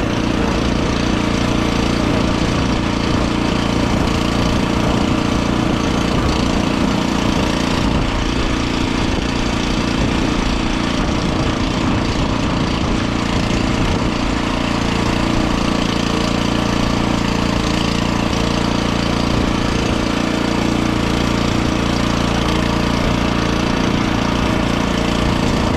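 A Neva walk-behind tractor plowing soil: its small engine runs loud and close with a steady, rough chugging drone and slight knocking throughout, no pauses and no talk.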